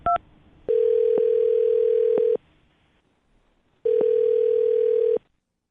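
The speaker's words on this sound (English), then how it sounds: "I'm going to dial her phone number right now" Ringback tone on a telephone call while a phone number is dialed: a short dial beep, then two long, even electronic ring tones separated by a silent pause.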